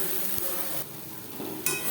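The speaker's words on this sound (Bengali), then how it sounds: "পেঁয়াজ ও রসুনের সাথে মশলা বেশ ভালো করে কষিয়ে নেওয়া হয়ে গেছে" Spices frying with onion and garlic in a pan for a fish roe chochori, soft sizzling and stirring scrapes up close, fairly quiet, with a brief clink near the end.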